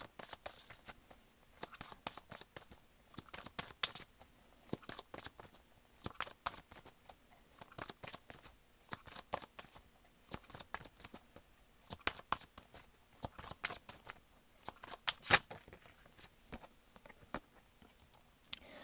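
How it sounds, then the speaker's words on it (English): A tarot card deck is shuffled with quick, papery riffling and soft flicking bursts repeating steadily, close and fairly quiet, with no talking. "And I'm going to shuffle the deck and then I'll lay out the cards."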